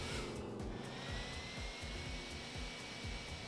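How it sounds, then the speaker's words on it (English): Steady vacuum-like whirring drone from the Jump Force fighting game, continuous and loud throughout, with a pulsing low rumble underneath and no talking. "Sounds like more of a vacuum, no?"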